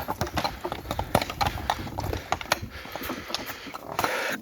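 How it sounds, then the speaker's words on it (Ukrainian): Draft horse hooves clip-clop in a steady walking rhythm on an asphalt road in Ukraine, each strike crisp and close, continuing throughout. "На коні йдуть."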